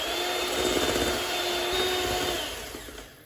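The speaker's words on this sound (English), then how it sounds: "just carry on mixing with your electric whisk until it's all combined together." An electric whisk runs steadily at close range, mixing triple chocolate cookie dough in a bowl with egg added, giving a loud continuous whirring drone that fades away in the final moment.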